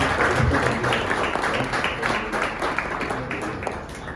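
A church congregation at a Sunday service claps steadily and loudly in sustained applause, with faint voices mixed in beneath the dense clapping.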